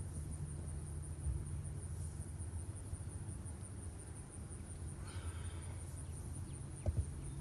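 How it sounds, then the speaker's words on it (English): A steady, dense hum of honeybees buzzing inside a hive in a cow pasture apiary, continuous and fairly even, with a faint rustle partway through. "There's a lot of bees in there."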